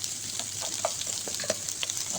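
Garlic frying in a pan for chicken sinigang, a steady bright sizzle with scattered pops and small stirring clicks, close and continuous, with no voices.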